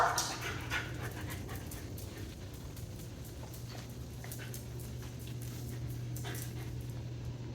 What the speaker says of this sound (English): The dogs are still alive.